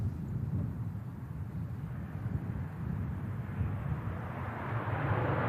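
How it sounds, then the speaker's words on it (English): A Ryanair Boeing 737 lands at Manchester Airport with a steady low roar of engines and rushing air that swells slightly toward the end, heard from a distance with no speech. "Ryanair coming in after 3 hours and 30 minutes of flight on board this 737 Kilo hotel"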